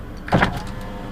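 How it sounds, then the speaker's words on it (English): An old Chevy's power window motor whirs briefly with a clunky burst, close by and short, with no talking. "We do have power windows on this model"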